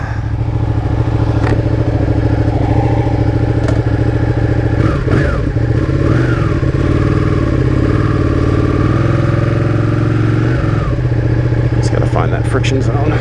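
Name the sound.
Ducati 959 Panigale motorcycle engine running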